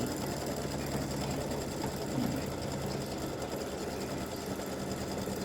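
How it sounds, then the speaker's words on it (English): An embroidery machine runs a steady placement stitch for an elf legs and bow applique design, a continuous close mechanical whir with fine rapid needle ticking and no voices. "I'm going to let this stitch, which is a placement stitch, I'm going to let it stitch where it needs to be"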